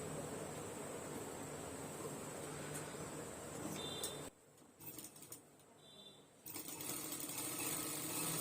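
Sewing machine stitching fabric for a tailoring lesson, a steady fast whirring run that stops briefly midway, then starts again, heard close and alone.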